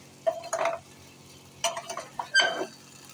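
Taro stolon curry being stirred in a pan with a utensil, a few short scraping and clinking strokes in separate bursts, close and moderately loud with no talking.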